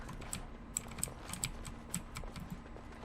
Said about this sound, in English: Your keys make a lot of noise.